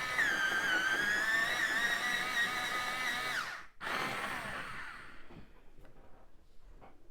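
A pencil grinds in a sharpener for about three and a half seconds with a whirring, pitch-wavering tone, pauses briefly, then grinds again more softly before trailing off.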